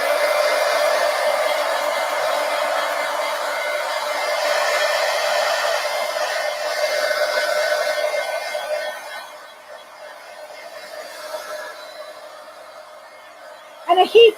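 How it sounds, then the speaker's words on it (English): A Marvy Cheetah heat gun blows a loud, steady airy whoosh for several seconds, then quiets to a softer hum before a few brief knocks at the end. "And a heat gun is really, I don't want to say it's necessary, but you can use a hair dryer, but it's going to take longer."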